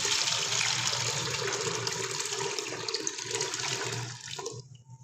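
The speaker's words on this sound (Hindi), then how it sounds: "पानी ऐड करेंगे" Steady gush of water pouring and splashing into a cooking pot of tomatoes for several seconds, fairly close and loud, tapering off abruptly near the end.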